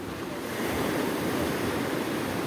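Sea waves surge and wash along the shore at Mariveles, Bataan, a loud continuous rushing surf with some wind buffeting the microphone.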